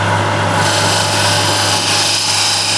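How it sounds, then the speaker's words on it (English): A gouge cuts a very hard wood spinning on a woodturning lathe, making a loud continuous scraping rasp over a steady motor hum, with no talk. "We are now using gouge, not the skew."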